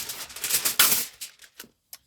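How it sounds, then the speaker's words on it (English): Crinkly rustling and crackling as aluminium foil is pressed over a dish of meatloaf for an Instant Pot, in a run of close, uneven crisp bursts that taper into a few short crackles near the end. "so we're going to cover it with foil."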